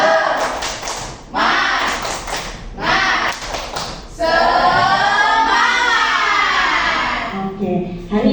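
A group performs the tepuk semangat clapping chant in an Indonesian school training session, bursts of rhythmic claps mixed with chanting voices, then singing-like voices continue alone.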